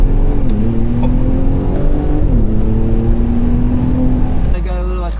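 A Ram RHO pickup truck launches hard, its engine holding a loud steady drone that climbs in pitch with a brief shift dip, recorded up close before easing off near the end.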